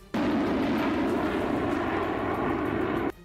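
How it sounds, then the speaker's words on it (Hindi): Russian Sukhoi Su-30 and Su-35 fighter jets take off from their base, a loud, steady jet-engine roar that starts abruptly and holds for about three seconds before cutting off. "लेकिन जो वीडियो सामने आया उसमें रूस के सुखोई 30 और सुखोई 35 फाइटर जेट अपने बेस से"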